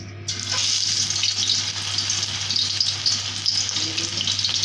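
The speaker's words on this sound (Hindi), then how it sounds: "ये ऑयल गर्म हो चुका है और बहुत अच्छा सा जैसे हमें चाहिए था सेम। तो अब मैं इसमें डाल रही हूँ चिकन के पीस।" Chicken pieces for pakoras frying in hot oil, giving a loud, steady, close sizzle that continues without a break and is heard alone with no talking.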